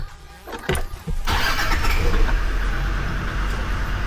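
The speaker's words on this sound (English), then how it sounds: "See, that idle isn't right, and see, it's quite rough" A Land Rover Defender TD5 diesel engine cranks briefly and fires, then settles into a steady, rough, uneven idle that stays loud and close.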